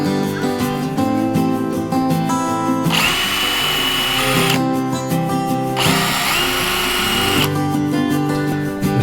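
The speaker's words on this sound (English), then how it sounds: "You put this little punch in a drill." A power drill fitted with a hole punch bit, working on a van panel, whines in two sustained bursts, loud and close, with brief pauses between runs and a steady mechanical hum throughout.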